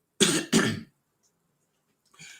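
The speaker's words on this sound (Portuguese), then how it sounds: "que eu estou tossindo aqui" Two quick, harsh coughs close together, followed by silence and a softer rasp at the end.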